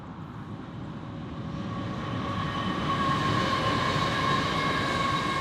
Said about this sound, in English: I got the steel train coming, going towards Melbourne, which snuck up on me.